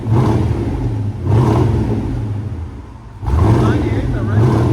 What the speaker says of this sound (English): Rev it like just normal